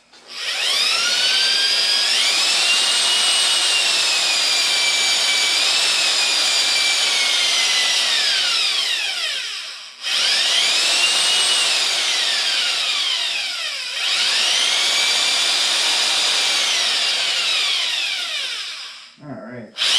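A 327 V8 engine mounted on an engine stand revs hard with high, sustained whining tones, rising and settling across three long bursts with short dips between them, loud and close.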